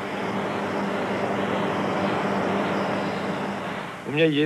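Steady engine roar of a helicopter used to train for lunar landings, a loud continuous drone throughout, with a voice speaking over it at the very end.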